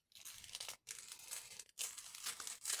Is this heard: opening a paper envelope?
yes